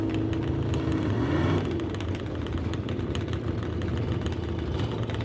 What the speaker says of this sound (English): Sounding quite a bit different from a lot of the Harleys that we're hearing.